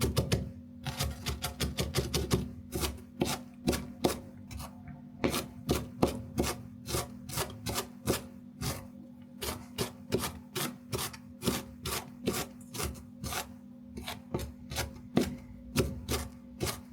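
A knife chops fine onion slices on a cutting board for German meat patties, a steady run of close, crisp taps repeating quickly for many seconds with a few brief pauses.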